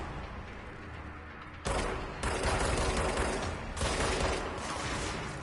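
Gunfire from the video game Control comes in dense rapid bursts, starting abruptly after a quieter stretch and continuing in several loud volleys with short breaks between them.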